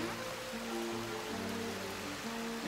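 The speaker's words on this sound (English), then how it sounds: "there's like a waterfall over there" A waterfall, likely heard from some distance, gives a steady broadband rush of water, with a faint tonal hum running underneath.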